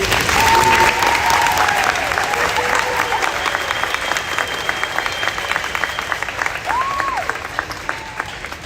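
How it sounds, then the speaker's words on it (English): Audience applauding the Skidmore-Tynan Mighty Bobcat Band at a school Christmas concert, a steady wash of many hands clapping, loudest at first and tapering slightly, with a few faint tonal squeaks in the room. "Give them one more round of applause, please."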